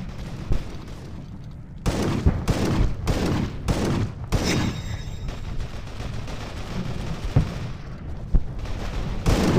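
Repeated shotgun blasts in the mobile shooter game Tacticool, several loud booming shots spaced about a second apart with a busy game soundscape between them.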